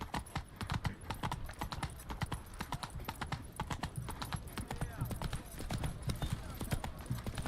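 Roach, Geralt's horse in The Witcher 3, gallops with fast, close, rhythmic hoofbeats that run without pause, with a brief whinny and faint game sounds underneath.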